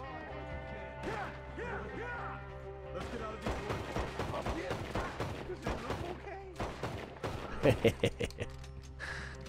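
Enemy gunfire in Red Dead Redemption 2, with scattered shots and sharp cracks, some distant and some closer, while someone talks over the exchange.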